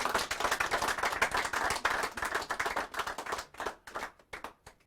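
A studio audience at the Brekete Family programme claps a round of applause, a dense burst of many hands that thins toward the end into scattered separate claps.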